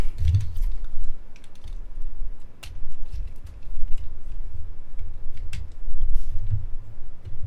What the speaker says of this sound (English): You fold down the handle, fold back this rear section here.